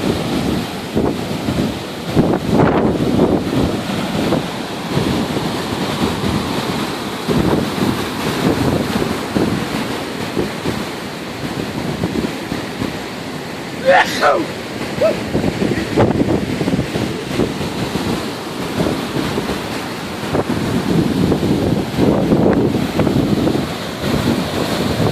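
Storm waves from Tropical Storm Ana break past a pier, a steady broadband roar of surf with strong wind buffeting the microphone throughout, no voices.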